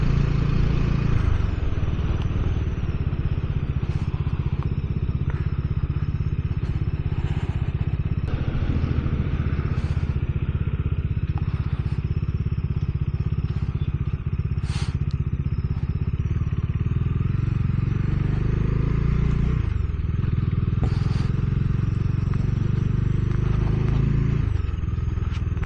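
A Kawasaki ZX10R superbike out on a Sunday morning ride near the Krishnagiri toll gives a steady, droning engine and exhaust note, with occasional dips and rises in revs, heard continuously at moderate loudness.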